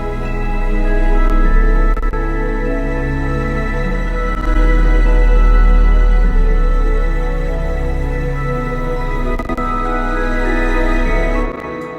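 A full string ensemble arrangement with all parts playing together, sustained harmonies layered over a deep bass line, loud and steady throughout with swelling dynamics and no voices.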